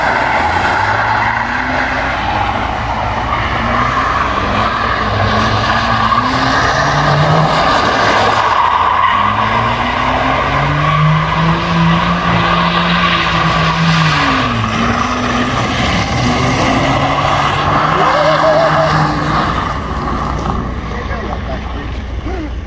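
A ute skids at a night skid event, its engine wailing at high revs in long rising and falling sweeps over continuous screeching tyres, loud and close, with voices talking underneath.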